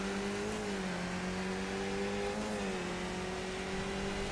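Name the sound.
race car engine at Tsukuba circuit in a racing video game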